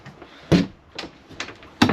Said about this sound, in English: The bathroom door goes into it.